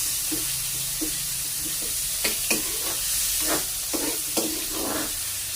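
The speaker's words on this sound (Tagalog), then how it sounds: "Hahalo-haluan din po natin para maluto po yung ating kamatis." Tomatoes stirred and frying in a pan for sarsiadong tilapia, with a steady soft sizzle and a few scraping stir strokes clustered in the second half, no talking.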